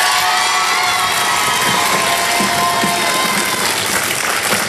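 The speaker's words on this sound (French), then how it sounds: "vous pouvez les applaudir" A large studio audience at a family game show final applauds loudly and continuously, with cheers and shouts mixed into the clapping.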